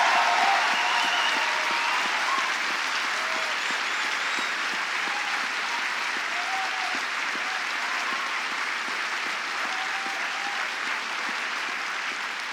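A large audience at a live science-comedy event gives a long, sustained round of applause for six speakers, a dense even wash of clapping that holds steady and fades slightly toward the end.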